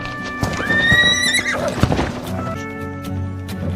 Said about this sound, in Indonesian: dengan mudahnya Juan bisa menjinakkan seekor kuda itu